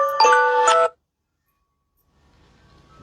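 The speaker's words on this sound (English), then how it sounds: "Phone call coming in." A phone gives an incoming-call alert, a short loud burst of two bright electronic chime tones lasting under a second, followed by near silence and faint low background rumble.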